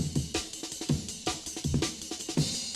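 A drum break sped up to 160 BPM and pitched up four semitones: a fast, busy breakbeat loop with punchy kicks, crisp snares and rapid cymbal hits, played alone.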